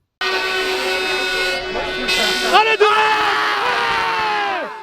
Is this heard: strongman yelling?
yes